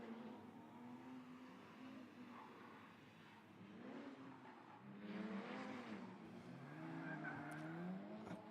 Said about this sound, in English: A bit oversteer here.